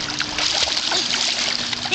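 A child swims and ducks under the water, making brief bursts of splashing and trickling water, close by and fairly loud. A voice may be faintly present.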